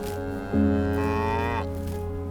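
A cow on a regenerative grazing farm lets out a loud, close moo of about one second, with a deep harmonic call that rises in pitch before it fades, and no other sounds around it.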